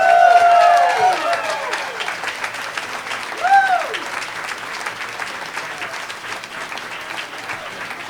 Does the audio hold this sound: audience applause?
yes